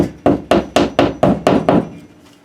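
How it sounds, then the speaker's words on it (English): A hammer taps a plastic molly anchor into drywall for a towel rack, seven sharp, evenly spaced knocks sounding close and loud, each with a short woody thud before fading out. "we're going to take our hammer and just tap it in till this part on the top here is flush with the wall"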